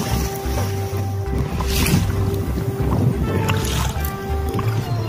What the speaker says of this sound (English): as you can see, we are on a kayak